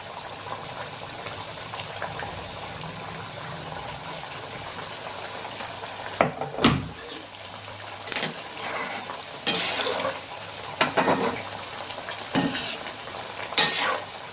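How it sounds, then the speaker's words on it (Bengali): Thekua, a sweet dough snack, frying in hot oil with a faint steady sizzle, broken by occasional stirring clinks and scrapes of a utensil against the pan. "এগুলি একদম লাল লাল করে ভেজে নিতে হবে।"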